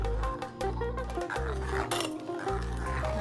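Onam-style sambar is stirred in a pot, with rhythmic scraping and clinking of a metal ladle against the vessel over a background hum.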